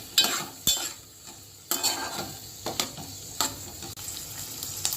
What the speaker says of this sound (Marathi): आता आपल्याला तोंडली टाकायची चिरलेली. आता हे आपण परतून घेऊ असं.